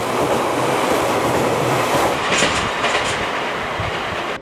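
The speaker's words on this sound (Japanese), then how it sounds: "その間に快速エアポートや特急の通過を眺めていました。" Rapid Airport or limited express train rushing past near Sapporo, a loud continuous roar with rhythmic clickety-clack of wheels over rail joints, close by and steady throughout.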